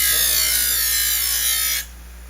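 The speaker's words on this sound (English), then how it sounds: "It's going to deburr the edges of these ribs." A power tool deburring the edges of aluminium wing ribs for an RV-12 aircraft wing, a steady, loud high-pitched whir held close for nearly two seconds before it cuts off, leaving a quieter hum.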